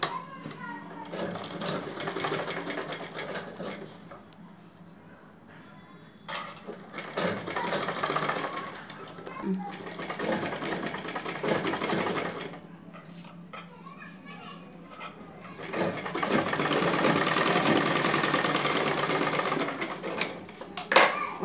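A sewing machine stitches folded piping strips onto a blouse, running in several long bursts separated by brief pauses, fairly close and loud, with some background noise from children.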